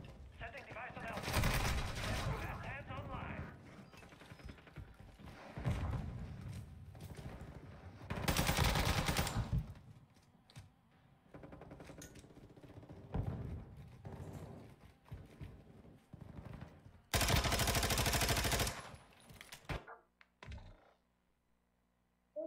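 Gunfight in the Warzone shooter, with repeated bursts of automatic and single gunfire arriving in loud clusters separated by quieter stretches, mixed with game noise and some talk, ending in near silence.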